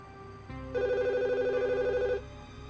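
A telephone rings with a steady electronic warble, one loud sustained burst of trilling tones over a quiet room background, with no talking.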